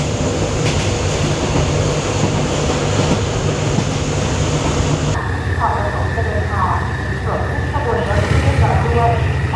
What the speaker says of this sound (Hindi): ये ट्रेन यहाँ चलने लगी है।